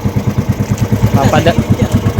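A ship's engine throbs at close range in a fast, even pulsing rhythm, loud and continuous the whole time, while a voice talks over it.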